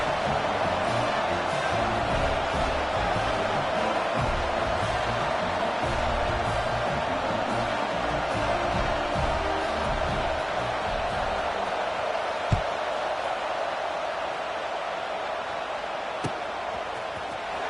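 Steady, dense roar of a football stadium crowd in a college football video game, a constant wash of massed voices holding at one level for nearly eighteen seconds with no clear peaks, broken only by a couple of faint knocks.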